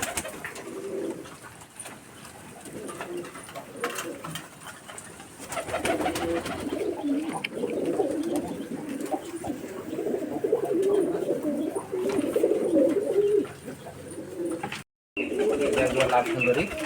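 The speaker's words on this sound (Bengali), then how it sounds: "কিছু কবুতর এখান থেকে সেল দেব, দেখাচ্ছি আপনাদের।" Local Giribaz pigeons coo steadily at a pigeon market in Rajshahi, a soft continuous murmur of many birds close by, with a brief dropout near the end.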